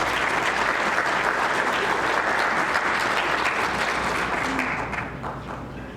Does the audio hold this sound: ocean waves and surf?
no